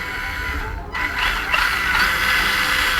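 Plastic gearbox of a Tamiya MB-01 radio-controlled car running in reverse, a steady whirring, ratcheting gear whine up close that briefly cuts out and then resumes.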